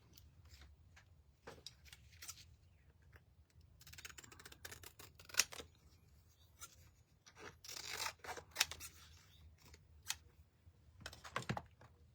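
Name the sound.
scissors trimming a paint stencil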